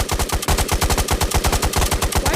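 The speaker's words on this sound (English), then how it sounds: "Shoot, there are people shooting at me." Rapid automatic gunfire in the video game Ghosts of Tabor, a fast, steady stream of loud close shots that runs without pause and has no talk over it.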